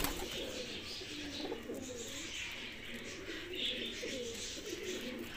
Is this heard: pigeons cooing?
yes